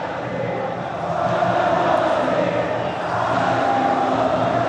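A football stadium crowd at a Saudi Pro League match between Al-Wehda and Al-Ittihad roars as a steady, dense wash of chanting and cheering that swells slightly partway through, with no clear talk.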